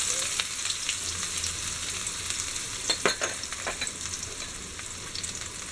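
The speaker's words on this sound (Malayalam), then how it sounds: "നമ്മൾ ചെറുതായിട്ട് അരിഞ്ഞു വെച്ചിരുന്ന ചുവന്ന ഉള്ളി ആഡ് ചെയ്തു. ഇതൊന്ന് ചെറുതായിട്ട് വഴറ്റിയെടുക്കും." Finely chopped shallots sauté in ghee in a pan for a beef biryani, a close, steady frying hiss with light stirring scrapes and a few crisp pops midway, no talk.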